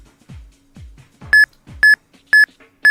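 A streaming alert plays a run of electronic beeps: soft descending blips give way to four sharp, loud, evenly spaced tones near the end, with no talking.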